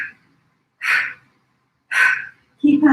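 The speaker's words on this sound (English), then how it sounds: "percussion breathing, a breath out with each squeeze of your legs" Percussion breathing during a leg-squeeze exercise: three short, forceful exhaled puffs spaced about a second apart, close and loud, the last merging into a voiced sound.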